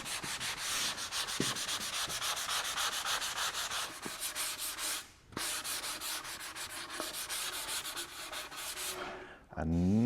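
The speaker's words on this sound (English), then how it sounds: "I'm going to do the sanding with one of these handy little 3M sanding sponges." Steady, close rubbing of a fine 3M sanding sponge over a brushed Deft lacquer finish, one continuous scuffing stroke after another with two brief pauses, ending in a short handling noise.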